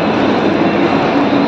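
A Mumbai local train at Churchgate railway station gives off a loud, continuous rumble and hiss, steady and close, with no voices over it.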